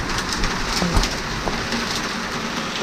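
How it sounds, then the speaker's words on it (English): A steady, dense patter of hail striking a C-Dory 25 Cruiser boat nearby, with a few sharper cracks standing out from the continuous rattle. "Now we got a hailstorm going on."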